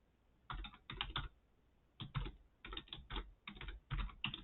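Bursts of quick computer keyboard typing, close and crisp, come in several short clusters separated by brief pauses, with no voice over them.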